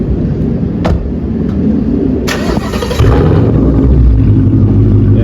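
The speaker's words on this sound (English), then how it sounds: "We're gonna do some small revs right quick" A 2019 Mustang GT with a newly installed clutch rumbles loudly close by, its engine note rising into short revs and holding a heavier, fuller roar near the end, with no talk.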